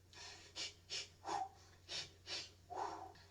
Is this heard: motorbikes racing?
no